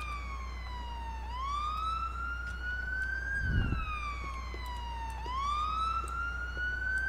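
A wailing emergency siren rises and falls in long sweeps in GTA IV with the LCPDFR police mod, steady and fairly close over a low engine hum, with no talking.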